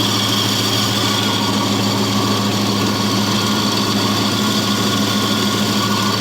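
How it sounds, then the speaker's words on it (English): A running Chevrolet Cavalier with a dead power steering pump gives a loud, constant engine drone laced with a steady whining, grinding tone, close to the engine and without any talking. "from the power steering pump that's dead."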